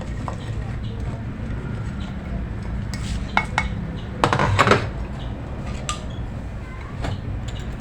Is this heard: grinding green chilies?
yes